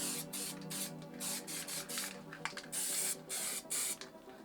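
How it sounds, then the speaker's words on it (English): MTN water-based spray paint hissing from a can in short repeated bursts, close and fairly quiet, with brief pauses between sprays. "Spray a bit on there."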